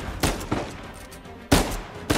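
Several sharp gunshot bursts with echoing tails from an Uncharted 4 firefight in quick succession, fairly loud, no voices.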